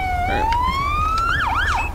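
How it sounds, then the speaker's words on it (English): A police car siren in the GTA V LSPDFR game wails loud and close, rising steadily and then switching to a quicker yelping sweep, with no one talking over it. "Another siren."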